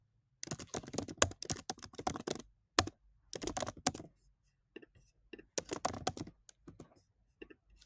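Quick bursts of clicking keys on a computer keyboard as an email address is typed in, close and clear, with short pauses between runs of keystrokes.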